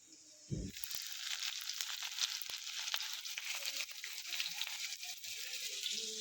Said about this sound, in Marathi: तेल मोहरी जिरी आणि लसूण हे तीन वस्तू कटकडीत फोडणी बसल्याच्या नंतर मग कांदा टाकायचा